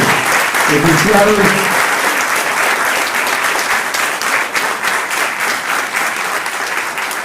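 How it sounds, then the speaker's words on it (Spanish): Loud, sustained applause from an audience honoring a family at a regional museum's 30th anniversary ceremony, dense clapping close and even from start to finish, with a voice briefly speaking over it near the beginning. "fuerte el aplauso a toda la familia."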